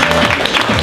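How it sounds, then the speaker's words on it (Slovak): Audience applauding for fighters at an evening fight event, a short loud burst of dense clapping heard up close. "A ja poprosím ešte raz veľký potlesk pre bojovníkov"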